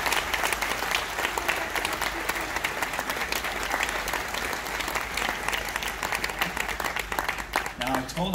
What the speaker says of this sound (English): And please give Marva a huge round of applause as she makes her way to the stage.